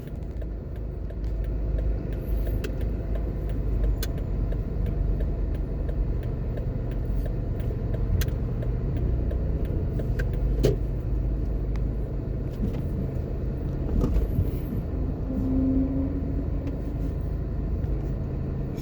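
Car driving through Port Henderson plaza in Portmore, Jamaica, a steady low interior road rumble and engine drone throughout with faint ticks, no talking.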